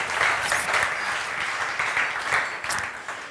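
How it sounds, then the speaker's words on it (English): Steady applause from an audience at a logistics tech talk, a dense wash of many hands clapping that continues evenly without pause, with no voices over it. "So applause."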